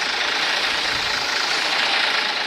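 Steady, loud running engine of an American tractor on a Canadian farm, a continuous broadband rumble with no breaks and no voices.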